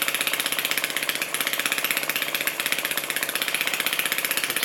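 A Lister D model stationary engine runs steadily at close range, its rapid, even firing beat continuous and loud with no talking over it.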